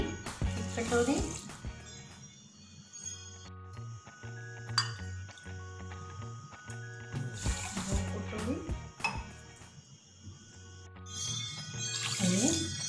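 Water is poured into a pan for sugar syrup, splashing in short bursts amid clinks of bowls and utensils in a home kitchen, while someone talks over it.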